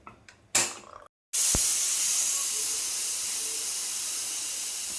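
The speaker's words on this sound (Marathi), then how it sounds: "कुकरचे झाकण लावून" A pressure cooker cooking masala brinjal bursts into a loud, sustained hiss of escaping steam after a brief click and pause, the steady whistle-like rush slowly easing.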